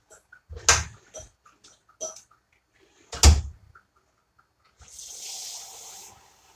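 A kitchen tap runs for about two seconds, a soft steady hiss of flowing water after a few handling knocks and clatters, close and moderately quiet.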